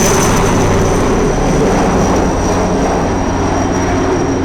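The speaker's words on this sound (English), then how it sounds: "There's the chopper going over the top." A helicopter passes overhead at a yacht race start, its engine roar loud, steady and continuous throughout.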